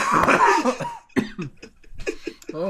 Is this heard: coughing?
yes